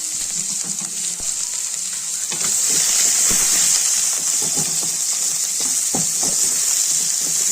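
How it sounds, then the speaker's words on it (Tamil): Cumin, dried chillies, onion, garlic and green chillies sauté in hot oil for a stalk amaranth kootu, a steady loud sizzle with scattered clicks and scrapes of stirring, close up and without talk. "எல்லாமே நல்லா வதக்கிக்கலாம்"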